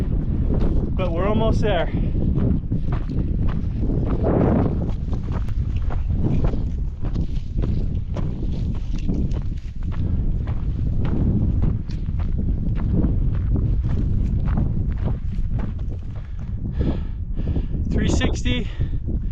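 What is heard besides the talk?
wind while hiking up a mountain trail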